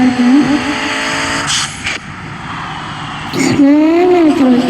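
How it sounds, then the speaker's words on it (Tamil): A car in the Gran Turismo 5 racing game braking hard, engine whine dropping as tyres squeal, then the engine revving back up, loud and continuous. "வேகமாக பிரேக் பிடிக்கிறாங்க பாருங்க."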